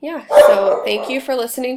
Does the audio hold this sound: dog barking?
yes